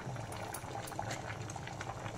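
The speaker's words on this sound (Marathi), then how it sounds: "आता उकळी आलेले आहे" Steady bubbling of a pot of clam curry with potatoes and drumsticks at a rolling boil, a constant soft burble with small pops, close by and with no voices.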